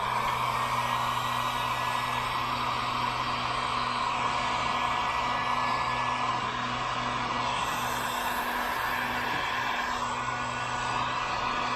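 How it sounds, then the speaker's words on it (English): A heat gun blows a steady, loud rush of hot air onto poly braid hose, an unbroken hiss with a faint hum running the whole time and no talking. "Let me break out the heat gun just because it's a little bit easier."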